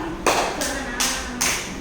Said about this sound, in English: Give her a clap.